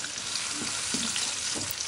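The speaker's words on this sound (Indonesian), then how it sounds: "kita mau tumis bawang merah, bawang putihnya terlebih dahulu" Shallots, garlic and chili sauté in a hot pan with a steady, close sizzle that holds throughout, broken by a few soft stirring scrapes.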